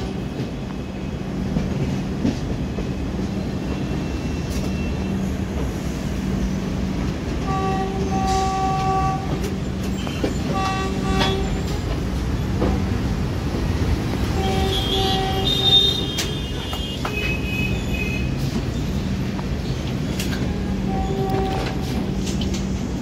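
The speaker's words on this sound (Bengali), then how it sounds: "ট্রেন তার নির্ধারিত সময় থেকে 20 মিনিট বিফোরে ঢুকছে এখন উত্তরপ্রদেশের রাজধানী লখনৌতে।" The 13307 Ganga Sutlej Express pulls into Lucknow with a continuous rumble and clatter of wheels on rails, punctuated by several short tonal horn or squeal bursts across the run, loud and close.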